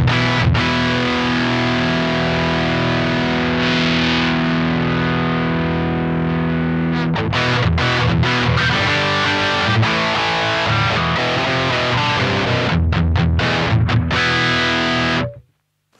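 A sustained, heavily distorted electric guitar chord rings through a Synergy Amps Mesa Boogie Mark IIC+ clone, loud and steady, then restrikes in choppy bursts before cutting off abruptly.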